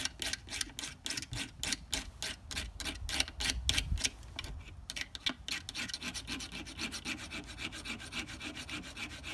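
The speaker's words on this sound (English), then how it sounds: "Let the sharpener do its work." A knife sharpener grinds a cheese spreading knife in rapid rasping strokes that start as a fast rhythmic scrape and settle into a steadier rubbing grind, close and fairly quiet, with no voices.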